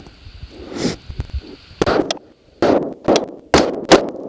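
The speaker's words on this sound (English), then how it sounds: "we're gonna be shooting 77 grains" Sharp, loud rifle shots from a B&T APC 223 firing 77 grain rounds at a target for a group, about five reports with a couple coming in quick pairs, close and echoing briefly.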